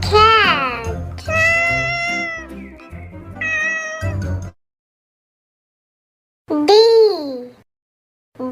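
A cat meows loudly and up close in a run of drawn-out, rising and falling calls, falls silent for a couple of seconds, then gives one more meow.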